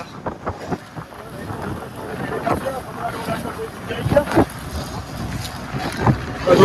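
A fishing boat at sea in a storm, its hull rocking and creaking amid steady wind buffeting the microphone and rushing water, with bumps and knocks rising toward the end; voices talk intermittently.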